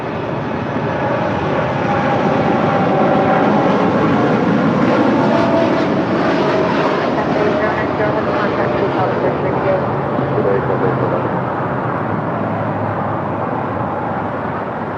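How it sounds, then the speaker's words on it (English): A Cathay Pacific cargo jet, Flight 90 bound for Dallas Fort Worth, departs with a loud, steady engine roar that swells mid-pass and holds, with radio voices faintly mixed in. "That is Cathay Pacific Cargo Flight 90 departing to Dallas Fort Worth"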